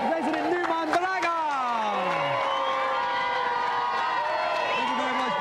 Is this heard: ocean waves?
no